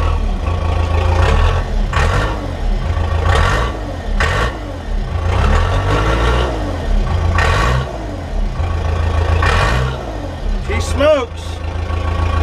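An old diesel vehicle engine, leaking power steering and long overdue for an oil change, runs at a rough, close idle with a low steady rumble, while a person talks intermittently over it and a short squeal sounds near the end.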